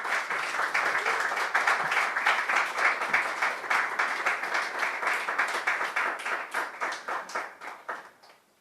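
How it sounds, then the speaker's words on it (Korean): An audience at a church founding service claps for about eight seconds, the dense applause holding steady and then thinning and fading out. "박수로 맞이해 주십시오."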